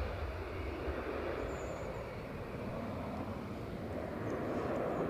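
A Ryanair airliner at Edinburgh Airport produces a continuous distant jet engine roar that holds steady throughout, with no voices.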